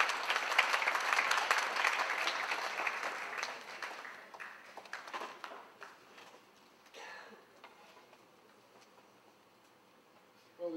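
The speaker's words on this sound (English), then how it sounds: "Let's give him a nice round of applause as well" Wedding guests applaud the groom's father as he is called up. The clapping is full and steady at first, then thins and fades to scattered claps and faint shuffling, with a brief rustle at the end.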